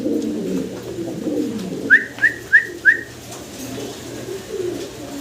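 Pigeons cooing at a pigeon market: four short, evenly spaced coos close by, over a low murmur of background noise.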